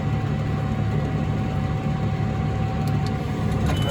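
A tractor engine runs steadily at working revs while driving a seed drill through the PTO, a loud, even low drone with a constant hum and no pauses.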